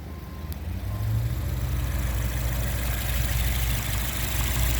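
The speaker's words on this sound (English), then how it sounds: "you do not want your engine revving like that on a cold start" A Toyota Yaris 1ZZ engine runs at a fast, steady high idle on a cold start, a continuous low rumble that rises slightly after the first second and then holds.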